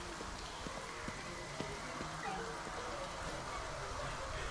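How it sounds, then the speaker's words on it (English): Steady rain patters across a city street in the video game Ghostwire: Tokyo, a dense, even hiss with scattered droplet ticks and a faint low rumble, continuous throughout. "Why is it raining upwards?"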